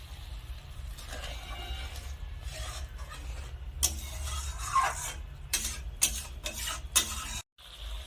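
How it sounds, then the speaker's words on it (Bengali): Ground mustard paste stirred into a boiling curry for pakal fish: a spoon clacks and scrapes against the pot in uneven bursts over a low bubbling simmer, close by, with no talking. "এখন আমি এর মধ্যে দিয়ে দেবো বেটে রাখা সরষা। সরষা খুব ভালো করে মিশিয়ে নেব।"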